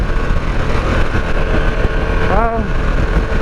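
A Harley-Davidson Pan America motorcycle runs in sport mode with a loud, continuous engine and wind roar and one short rising whine partway through. A voice is partly buried in the noise.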